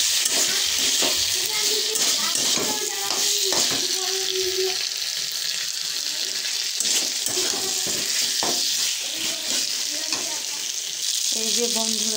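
Chilli chicken fries with tomato ketchup in a pan, giving a close, steady sizzle broken by repeated scraping clacks of a spatula as it is stirred, with no voices.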